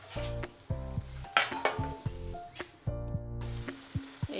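Stirring a pot of chana dal and banana flower curry with fried lentil fritters, with repeated metal spoon scrapes and clinks against the pot over a soft sizzle, close and alone with background music.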